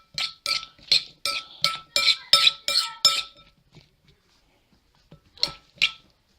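Ingredients for a chicken and potato zapekanka being mixed in a bowl, with a rapid series of close, sharp clinks and scrapes of a utensil against the bowl, then a pause and two more strokes.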